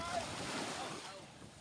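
Sea waves wash steadily with gusty wind across the microphone, a brief soft rush of surf heard up close with no clear talk.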